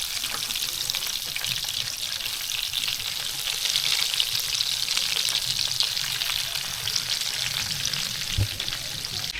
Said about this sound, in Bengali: তেল গরম হয়ে গেছে, এখন আমি মাছগুলো ছেড়ে দিব।